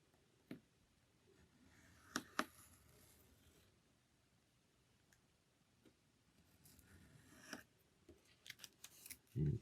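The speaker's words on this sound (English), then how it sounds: "I'm just going to use my X-Acto blade and take it" An X-Acto blade trimming the edge of paper for a handmade mini album, faint scattered scraping cuts and ticks at close range in a quiet room, with a few sharper snips and a louder knock at the end.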